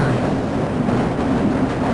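A transit train in Half-Life: Blue Shift rumbles steadily along its track, a close, continuous low roar with faint rattling and no talk.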